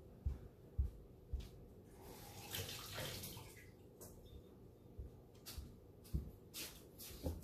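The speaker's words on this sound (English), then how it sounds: "I'll wash this." Ripe noni fruit being washed under a running tap, with a steady splash of water and occasional handling thumps and clatters close by, no talking.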